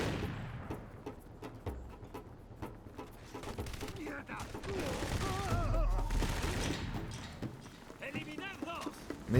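Gunfire rattles in the shooter game Crysis Warhead, with bursts of shots and thuds under loud, overlapping voices shouting over the fight.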